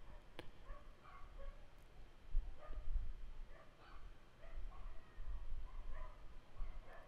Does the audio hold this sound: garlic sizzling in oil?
no